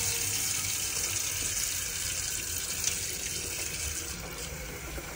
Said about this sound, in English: we can just literally start drawing the water through.